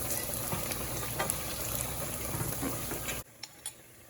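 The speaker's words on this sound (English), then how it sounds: "I'm just going to let that garlic brown a little" Garlic browning gently in a frying pan for Tuscan chicken, a steady soft sizzle with faint stirring and pan scrapes that drops off abruptly near the end.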